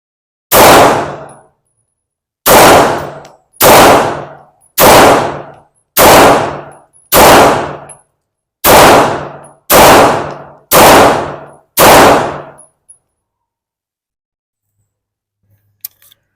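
Nine loud, sharp shots from a Sarsilmaz B6 full-size pistol, fired one at a time at a steady pace of about one per second, each with a short ringing decay, then silence.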